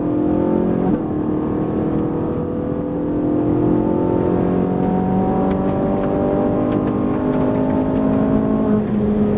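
A Ferrari 458 Italia V8 accelerating hard on the Fay-de-Bretagne race track, a loud continuous engine note climbing steadily in pitch after a brief dip, heard close from the car.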